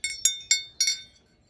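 Handmade porcelain butterflies clink lightly together in a few quick, bright chimes, close and delicate, fading into quiet.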